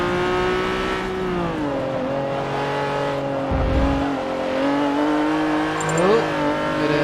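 Honda NSX-R engine in Forza 7 on the Nordschleife, held at full throttle with a steady rising, whining rev climbing through the gears, loud and close, with a brief low thump midway and no talk.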